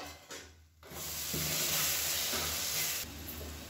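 Masala fries in oil over a medium flame and is stirred, making a loud, steady sizzle with scraping and stirring rustles. It swells after a brief quieter start, with no talking.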